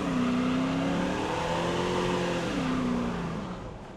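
A car engine revs hard under acceleration, its loud sustained tone climbing and shifting pitch before fading slightly at the end, heard close with no talk.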